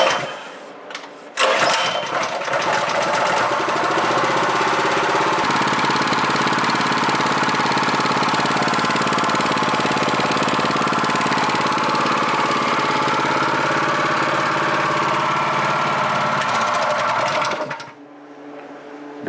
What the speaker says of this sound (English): Notice at full throttle it's surging just a little bit